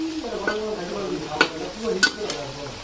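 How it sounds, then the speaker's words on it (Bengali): Potatoes fry in a pan while being stirred, with a couple of sharp utensil scrapes and clinks over a low sizzle, and a voice talks through the short stretch. "আলুটা ভাজা কমপ্লিট, এখন উঠে নিতে হবে"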